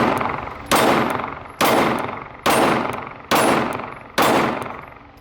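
Five sharp Glock pistol shots ring out at an even, deliberate pace, each a loud close blast followed by a fading ring from steel targets being struck.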